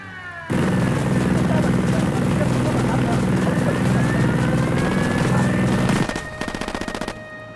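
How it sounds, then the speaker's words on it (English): A helicopter approaches in a military shooter video game, its loud, steady rotor roar starting abruptly and holding, then thinning into rapid choppy beats at the end, mixed with bursts of gunfire. "Chopper's approaching."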